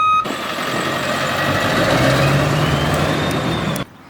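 A car reverses into a parking spot with its engine droning loud and close at a steady pitch, while faint reversing beeps may sit under the hum before it cuts off abruptly.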